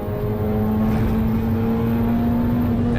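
A Ferrari Challenge race car engine at full throttle on the Road America circuit, a loud steady high-pitched in-car howl holding a constant tone throughout, with no voices.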